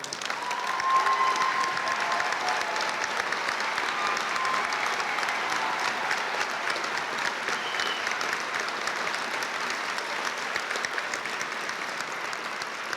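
Family members of students at a school district recognition night are applauded by a large audience, a steady, dense wash of clapping that holds at an even level throughout with a faint murmur of the crowd beneath.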